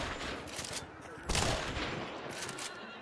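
Gunfire in the video game Hunt: Showdown, a dense, noisy burst of shots with a louder crack near the middle, heard over a steady busy game background.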